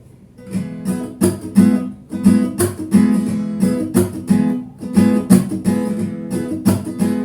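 Rhythmic chopped strumming on an acoustic guitar with a reggae offbeat feel, muted percussive strokes repeating steadily and loud with no voices.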